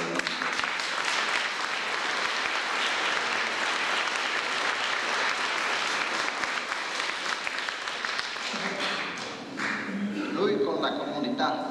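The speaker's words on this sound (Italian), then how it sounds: "E un applauso naturalmente." Congress audience applause at an addiction conference in Assisi: a long, dense, even round of clapping from a large hall, easing near the end as a speaking voice returns.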